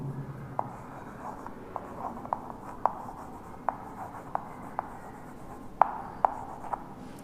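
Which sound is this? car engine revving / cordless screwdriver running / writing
writing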